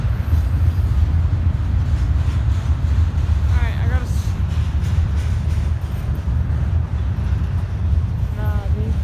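A freight train rolls along railroad tracks at a railfanning spot in Berea, Ohio, a steady loud rumble filling the whole stretch with two brief squealing wheel or horn-like tones, and voices talking underneath.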